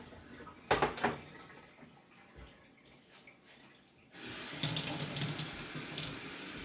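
Tap water runs over mung bean sprouts being rinsed in a sprouting tray, starting with faint splashes and trickles, then the faucet gushes louder and steadily for the last few seconds, with no talking.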